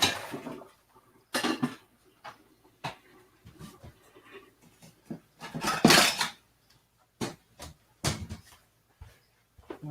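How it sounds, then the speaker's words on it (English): Pots being dumped out and moved around, giving a series of irregular metallic clanks, bangs and scrapes, close and fairly loud, with quiet gaps between the impacts. "I gotta dump a couple pots here."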